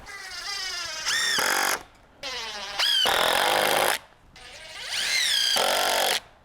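Screws driven with a power drill into the floor joists of a DIY cabin: three loud, close bursts of whining motor that rise in pitch as each screw bites, with short pauses between them.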